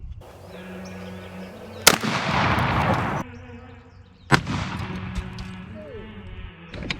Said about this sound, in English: This is a Benelli 12 gauge shotgun.